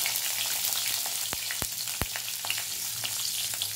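Slit green chillies crackle in hot oil, a steady broadband sizzle broken by a few sharp pops and spits, close and alone without any voices.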